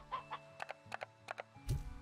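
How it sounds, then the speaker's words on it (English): A stony hen in Slime Rancher 2 gives a short run of soft, rhythmic clucks, several quick bursts close together over quiet game background, ending in a louder low flutter. "I'm gonna take this stony hen."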